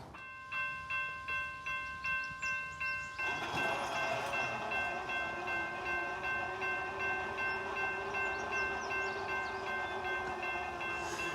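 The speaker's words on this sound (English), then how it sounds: "We got CSX B 419 headed south with a load of coke bound for Madisonville, Kentucky." A CSX freight train carrying a load of coke passes nearby, with a horn sounding in repeated blasts before a loud, steady rumble and rattle of rolling cars takes over and continues.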